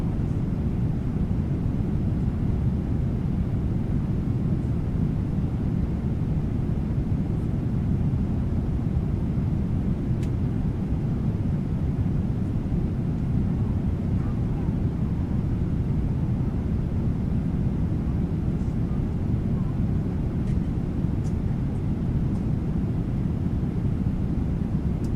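Steady, dense low rumble of a Boeing 777-300ER airliner cruising at altitude in Microsoft Flight Simulator, a constant engine and airflow drone holding level throughout with no talk over it.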